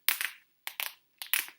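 Bone-crunching action feature of an AEW Unrivaled wrestling figure being worked: three sharp bursts of crisp crunching clicks, each a quick double or triple crackle, close and loud with short silent gaps between.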